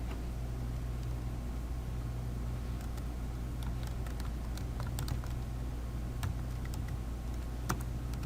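A computer keyboard clatters softly as someone types a comment in a spreadsheet, scattered light key clicks over a steady background hum, with no talking.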